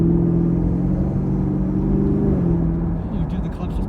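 2021 Chevrolet Camaro SS 1LE V8 engine driving and downshifting, a deep steady rumble with a drop in pitch toward the end, heard from inside the car with windows down and talking over it.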